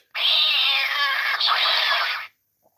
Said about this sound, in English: who stepped on the cat?